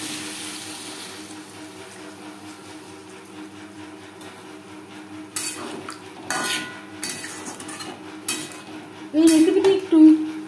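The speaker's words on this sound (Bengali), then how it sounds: "ভাজা মশলার সাথে 2-3 মিনিট নাড়াচাড়া করে নেওয়ার পর দিয়ে দেবো জল।" Papaya pieces are stirred with fried spices in a pan for a vegetarian curry: a quiet low sizzle at first, then louder spatula clanks and scrapes against the metal.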